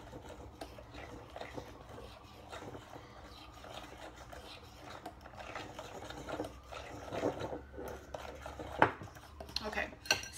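Spoon or whisk stirring protein powder, flax meal and almond milk into a snickerdoodle whey protein waffle batter in a bowl: steady close scraping and light clinking against the dish, growing busier toward the end.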